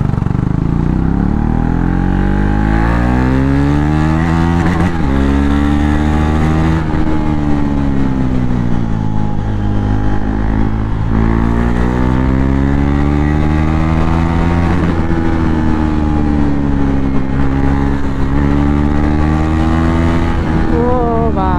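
Motorcycle engine on a busy city road near R K Circle, loud and constant close up, its pitch rising and falling with throttle changes throughout the ride as traffic surrounds it.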